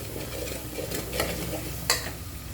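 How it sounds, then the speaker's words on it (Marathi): Masala for Maharashtrian shipi amti sautéing in oil, a continuous close sizzle under a few spoon-stirring scrapes and one sharper clink. "याला व्यवस्थित आता मिक्स करून घ्यायचे परतून घ्यायचे आणि तेल सुटेपर्यंत"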